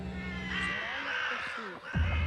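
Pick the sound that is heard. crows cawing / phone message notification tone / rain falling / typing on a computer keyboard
crows cawing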